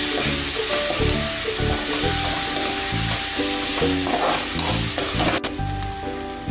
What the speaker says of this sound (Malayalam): നമുക്കിതിലേക്ക് നമ്മൾ ചതച്ച് വെച്ചിരിക്കുന്ന ആ ഇഞ്ചി വെളുത്തുള്ളി പേസ്റ്റ് ഇട്ട് കൊടുക്കാം